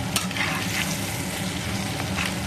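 Blue sea crabs fry in hot oil with a loud, continuous sizzle and crackle, close up and steady throughout, with no talking.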